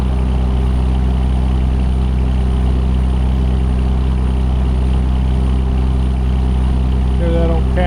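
A Ruta 389 semi truck hauling a trailer idles in American Truck Simulator while driving through Utah, a steady low rumbling drone holding level throughout, with a brief higher tonal flutter near the end.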